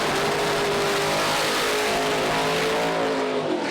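A Pro Stock drag race car at a PDRA East Coast Nationals drag strip roars down the track, a loud sustained engine howl with rising harmonic tones that holds steady for the whole stretch with no talk.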